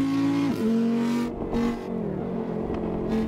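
A Stage 3 Audi RS3 in the racing game Assetto Corsa drones loudly and up close, its engine note dipping briefly as it shifts and then holding a steady, strained pitch under load.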